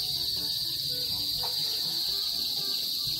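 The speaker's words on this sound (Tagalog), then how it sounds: "Maiingin na naman po ang mga kuliglig." Crickets trill continuously in a dense, high, unbroken chorus on a late afternoon beside a house, steady and fairly loud with faint background sounds beneath.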